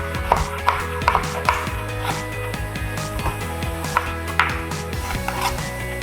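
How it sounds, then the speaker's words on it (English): A knife cuts tomatoes into small cubes on a board, with a run of quick, irregular chopping taps close by over a low steady hum, with no talk. "And then I just cut my tomatoes in little cubes."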